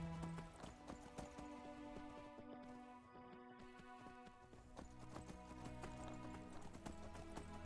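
Rhythmic clip-clop of horse hooves trotting in Skyrim, steady and continuous, with a faint whinny, sounding synthetic and game-like.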